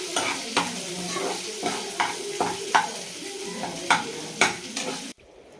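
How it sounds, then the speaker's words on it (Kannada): Onions and green chillies frying in a pan, a steady sizzle broken by repeated scraping stirs of a spatula, close and clear, without talk. "ಜೊತೆಗೆ 2 ಕಟ್ ಮಾಡಿ ಇಟ್ಕೊಂಡಿರೋ ಈರುಳ್ಳಿನ ಹಾಕ್ಕೊಂಡು ಚೆನ್ನಾಗಿ ಫ್ರೈ ಮಾಡ್ಕೊಳ್ತಾ ಇದ್ದೀನಿ"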